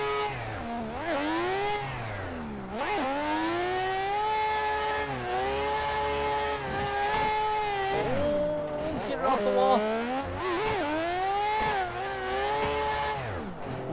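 A Mazda RX8 race car in the Assetto Corsa driving simulator, its engine revving hard and rising and falling through gear changes throughout, close and steady, with someone talking over it.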